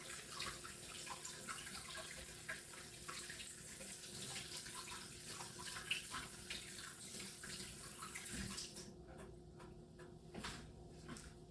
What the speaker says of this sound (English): I'm just gonna give it a rinse because it has a little bit of dirt on it still too.